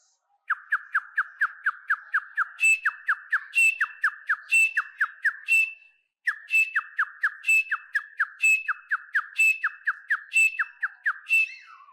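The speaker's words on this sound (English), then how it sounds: "now listen to the bird call" A recorded bird call played back for a school wildlife session: rapid series of bright, repeated whistled chirps in quick bursts with occasional higher squawky notes, loud and close, with a brief pause midway and no talking.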